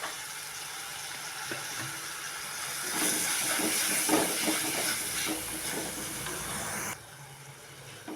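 Onion, garlic, carrot and green chilli sautéing in a pan, a steady broad sizzle and hiss that swells louder midway with small crackles, then drops back to a softer sizzle near the end.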